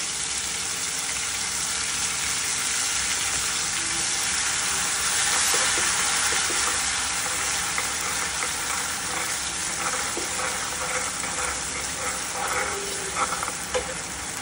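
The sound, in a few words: garlic cumin paste sizzling in a pan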